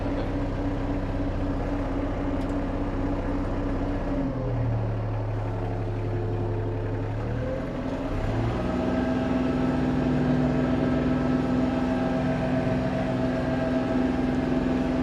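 An ISEKI GEAS 29s Japanese mini tractor engine runs steadily and fairly loud, droning throughout as it pulls away and drives, with a shift in pitch partway through and no talking.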